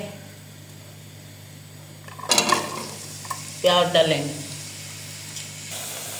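Onions tipped into four spoons of hot oil for a chicken biryani gravy, with a faint broadband sizzle that swells loudly at the drop, then settles under scraping stirs and a voice.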